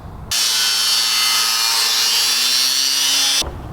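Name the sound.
scraping van frame rails with a homemade scraper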